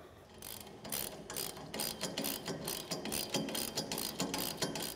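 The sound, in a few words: ratchet tightening 13mm nuts on UTV snow plow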